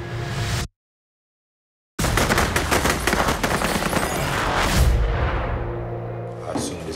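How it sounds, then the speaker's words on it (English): Gunfire outside a motel with police present, a dense burst of sharp loud shots after a brief silence, followed by a fading rumble. "You just hear that gunshot"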